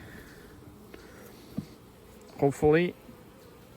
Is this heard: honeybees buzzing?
yes